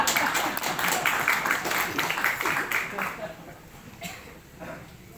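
An audience at a grant handover ceremony led by a regent claps together, a dense burst of applause that swells for about three seconds, then thins out and fades to scattered claps.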